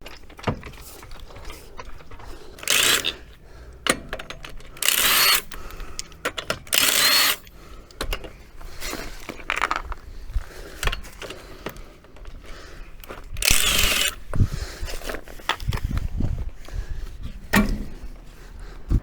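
A power tool works the wheel bolts off a Mk2 Golf, with repeated loud bursts of whirring impact rattle separated by pauses and lighter clicks and clunks, all close by.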